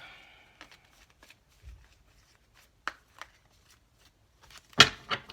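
Tarot cards shuffled by hand at close range: sparse soft riffles and taps with quiet gaps between them, ending in a sharper, louder burst of card noise.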